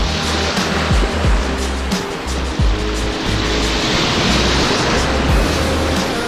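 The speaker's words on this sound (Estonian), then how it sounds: "Nüüd hakkab jälle tulema suured lained." Large sea waves crash one after another against a rocky shore in a loud, continuous roar of surf with heavy low rumbles, heard close by.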